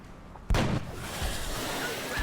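One sharp burst of gunfire in the turn-based strategy game XCOM: Enemy Unknown, a loud sudden crack that settles into a sustained noisy rumble.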